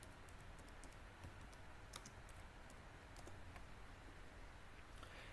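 Typing code on a computer keyboard, a steady run of light key clicks with a few louder taps, close and continuous under a faint background hiss.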